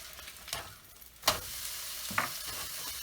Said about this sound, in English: Spam sizzling away in the background.